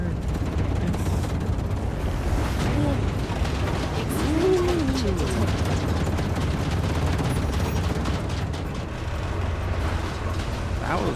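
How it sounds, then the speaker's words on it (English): Volcanic eruption in the space survival game StarRupture: a sustained, dense roar of rumbling blasts and crackling debris with rapid popping bursts, loud and continuous throughout, with a voice talking faintly over it. "Ruptura's eruption has started."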